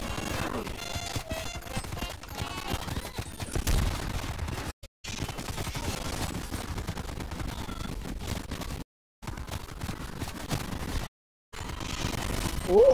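Sustained rapid gunfire from a zombies video game, dense bursts of automatic shots running almost continuously with a few brief gaps of silence.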